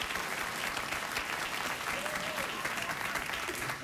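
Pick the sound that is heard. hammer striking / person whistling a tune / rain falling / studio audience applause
studio audience applause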